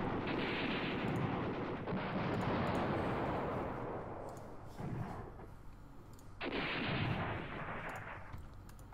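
Airstrike explosions and gunfire in the wargame Command Ops 2, heavy rumbling booms that swell and roll continuously, with a fresh blast surging in partway through, loud and dense without speech.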